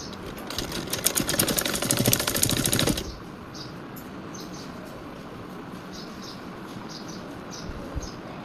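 Sewing machine stitching ribbons onto a five-year-old child's dress, a close, fast, steady burst of needle rattle for about three seconds before stopping, followed by quiet room noise.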